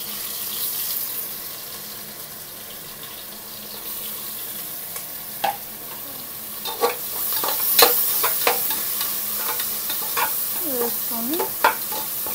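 Biryani masala spices and sliced onions frying in a pan, a low steady sizzle with scattered clinks and scrapes of stirring, while someone briefly speaks over it.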